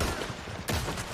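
Gunfire in the Red Dead Online video game bursts out in dense, noisy, overlapping shots that swell sharply about halfway through, loud and continuous over the whole moment, with no voices.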